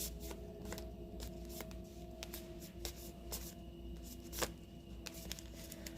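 Soft, continuous riffling and flicking of tarot cards being shuffled, close and quiet, with no talking.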